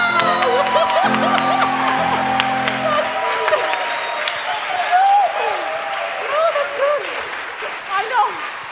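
An audience applauds after a singer's performance at a voice masterclass, a steady spread of clapping with some cheers and whoops, continuing under talk from a person nearby.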